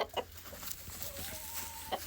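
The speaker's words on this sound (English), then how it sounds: "She's just such a sweet little chicken." Hens in a backyard coop give soft, scattered clucks over a steady background hiss, with a few brief sharper calls near the start and end.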